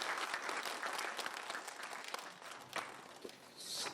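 A forum audience applauds an education superintendent at a Gwangju education event, a fairly faint, lively round of clapping with scattered sharper claps as it thins out.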